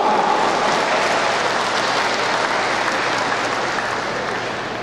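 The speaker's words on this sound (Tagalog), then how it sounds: "Malakas na palakpak po." A church congregation applauds loudly in a steady, dense roar of clapping that holds for about five seconds and fades only slightly toward the end.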